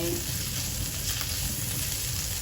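Shrimp stir-fried in a hot pan give a steady, dense sizzle with faint scraping and stirring throughout, close and continuous.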